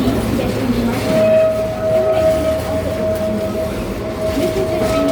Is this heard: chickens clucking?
no